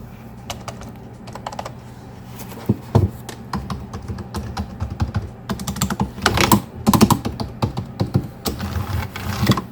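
Keys clack on a Perixx PERIBOARD-409PW keyboard hooked to a retro PS/2 computer, with irregular rapid typing that grows busier and louder in bursts toward the end.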